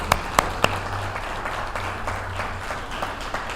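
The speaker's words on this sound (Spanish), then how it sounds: "Otro aplauso le damos a los chicos" Audience applause at a talk about marriage, opening with a few sharp, close individual claps that settle into a steady, moderately loud wash of clapping from the crowd.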